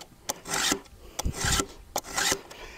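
Steel hand file rasping across the teeth of a chainsaw chain, the saw held between the knees, in three or four steady push strokes separated by short pauses, close and fairly loud with no talk.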